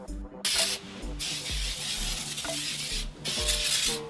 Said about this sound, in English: So I take this back spray, I'll shake real nice, I go spray.